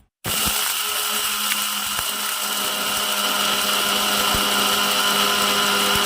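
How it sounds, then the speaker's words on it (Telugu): A mixie grinder powdering kandi podi ingredients starts abruptly and runs at a loud, steady whine with a constant motor hum for the full stretch. "పదార్థాలన్నీ మిక్సీ గిన్నెలో వేసుకొని మిక్సీలో పౌడర్ చేసుకోవాలి"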